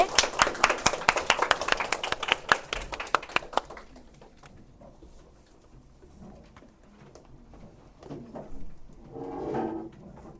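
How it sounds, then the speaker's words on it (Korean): An audience at an academic information session for incoming high school students gives a burst of hand clapping for several seconds, then it fades into a quiet room with faint murmuring and a short rise of voices near the end. "고등부의 김신철 팀장님께 큰 박수로 맞아주시면 감사하겠습니다"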